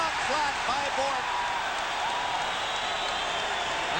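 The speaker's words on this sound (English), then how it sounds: "That gets the crowd going again" Crowd in a hockey arena roars and cheers during a 1990 NHL playoff game between the Canadiens and Bruins in Boston, a loud, steady wall of noise with a commentator's voice riding over it.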